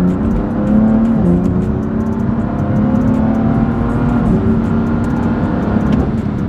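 A Porsche GTS sports car engine hums and revs under load while driving, a steady close drone with rising and falling pitch and faint road whir, without talk.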